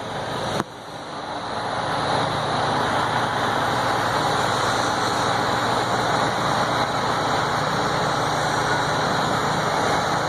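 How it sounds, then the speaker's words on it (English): Truck engine idling steadily after its air brake system reaches full pressure, a constant close rumble running unbroken for about ten seconds after a brief dip at the start. "Now we're going to let it idle."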